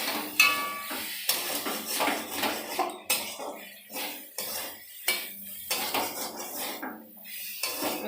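A lid goes onto a pan of puti fish frying with chili powder, making a run of close metallic clanks and clattering knocks of cookware at an uneven rhythm. No one speaks.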